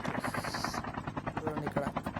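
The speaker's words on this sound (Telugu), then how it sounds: "ఆల్ఫా బ్రో ఇక్కడికి వచ్చేసాడు హెలికాప్టర్ తీసుకొని" Rhythmic thumping of an arriving helicopter in a Call of Duty Mobile battle royale match, pulsing rotor beats throughout with a brief hiss at the start and faint game effects, no talk.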